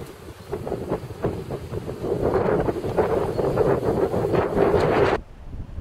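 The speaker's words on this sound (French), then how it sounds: "Il y a beaucoup de vent" Strong wind buffets the microphone outdoors at a hunting spot, loud gusty rumbling roar that surges and rises in waves before cutting off abruptly near the end.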